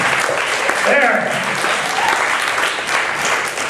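A conference audience applauds a performer on stage, loud continuous clapping throughout with voices and cheers mixed in.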